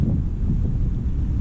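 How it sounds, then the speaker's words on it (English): Wind gusts steadily buffet the microphone outdoors on a windy afternoon behind a store, a dense low rumble that stays loud and continuous throughout, with no talk. "it's actually a windy afternoon here"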